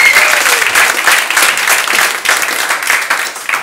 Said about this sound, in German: Einen herzlichen Applaus für Annette.